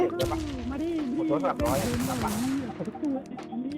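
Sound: gunfire from a video game

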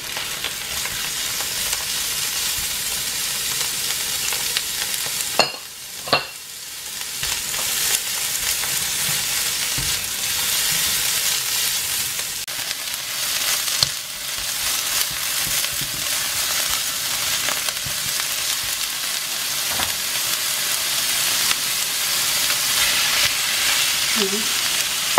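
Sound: pork being stir-fried in a pan for chow mein

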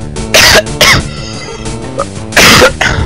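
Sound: person coughing

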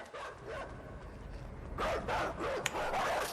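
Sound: dog barking while chasing, in the video game Inside

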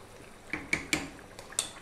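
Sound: potatoes and carrots dropped into a stew pot

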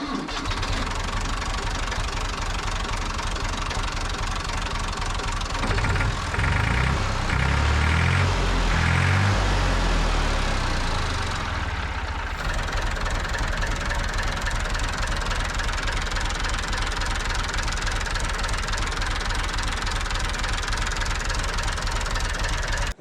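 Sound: Massey Ferguson 240S tractor engine starting and idling

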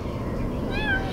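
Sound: kitten meowing

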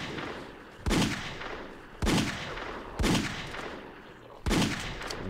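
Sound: pistol (Deagle) gunfire in Halo Custom Edition video game

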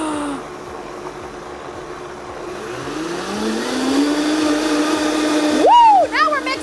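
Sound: blender mixing cream with sugar and vanilla

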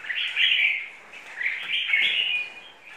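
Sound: oriental magpie-robin singing

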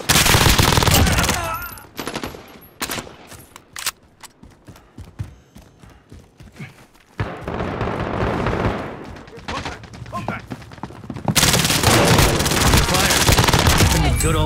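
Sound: gunfire in a shooter video game

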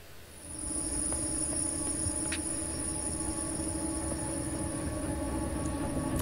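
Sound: trains passing in the video game INSIDE

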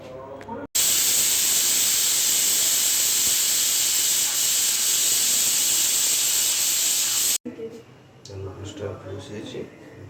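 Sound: steam hissing as a pressure cooker is opened after one whistle

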